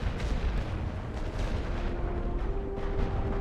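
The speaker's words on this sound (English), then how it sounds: "we're giving them some freaking artillery" Artillery in a war video game booms continuously as a dense, rumbling barrage at steady, fairly loud level, with no clear gaps between blasts.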